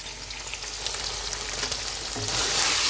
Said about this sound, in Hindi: ये चिकन अच्छे से भुन गया।